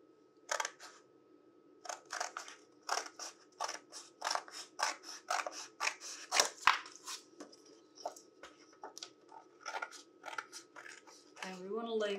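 Scissors snip through paper along printed dotted lines in a steady run of sharp, close cuts, roughly two per second, with brief pauses between strokes and a faint voice creeping in at the very end.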